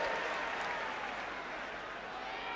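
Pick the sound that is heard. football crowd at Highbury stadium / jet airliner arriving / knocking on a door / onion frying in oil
football crowd at Highbury stadium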